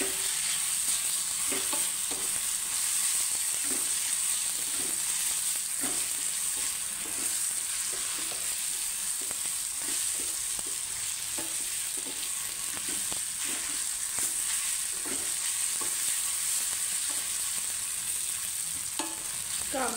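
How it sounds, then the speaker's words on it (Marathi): Onions fry in a pan, a steady bright sizzle running throughout with soft irregular stirring taps and scrapes at close range, no voices. "आता कांदामध्ये घेऊन व्यवस्थित असं छान भाजून घ्यायचं।"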